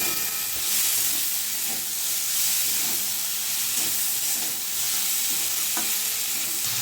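Slit green chillies and sugar being stirred in a sizzling frying pan for a Bengali shapla (water lily stem) dish, with a continuous close hiss and scraping stir strokes throughout.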